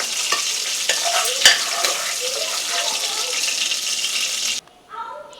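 Garlic frying in oil in a pan for a liver pepper fry gives a steady, close sizzle with light stirring scrapes, then drops away abruptly near the end.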